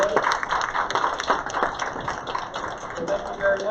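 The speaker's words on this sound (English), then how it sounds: "So if we give a quick round of applause, everybody." An audience at an awards ceremony gives a quick round of applause, fairly near and steady scattered clapping with a few faint voices underneath.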